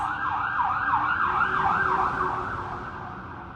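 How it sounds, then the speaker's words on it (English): An ambulance siren wails loud and steady in a repeating rising-and-falling sweep over road rumble, fading slightly toward the end, with no voices. "Well, hello there, ambulance."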